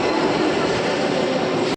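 A metro train at a Bengaluru station gives a short, loud, steady rush of rolling rumble and hiss that cuts off abruptly.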